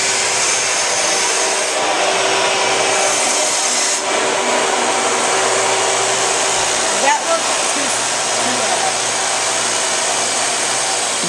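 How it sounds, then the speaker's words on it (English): A loud, steady grinding whine runs continuously, with brief changes in pitch as the blade is worked against the wheel. "He's doing a little grinding on the bevel of his knife."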